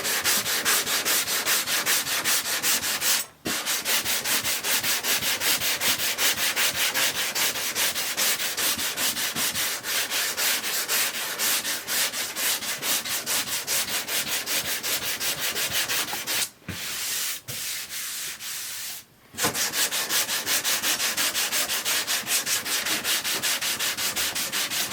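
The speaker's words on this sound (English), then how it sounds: "When you're sanding these curved areas, these flares, these compound curves, this block is a godsend" Steady, continuous abrasive rubbing of a flare sanding block worked back and forth over a curved car body panel flare, close and loud, with two brief pauses.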